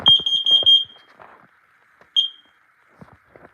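A piercing smoke alarm chirps rapidly in a short series of loud beeps, then gives one more beep after a pause, with faint clunks and rustling around it.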